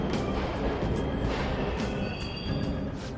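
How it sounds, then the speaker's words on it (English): Subway trains rumble in Persona 5 Royal, a continuous loud rattling roar with faint high squeals from the wheels and rhythmic clacking over the rails. "The trains are totally running."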